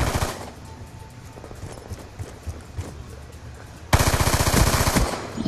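Video game gunfire from an in-game gun: rapid repeated shots crackle under the game's background sound, then a loud, fast automatic burst erupts near the end.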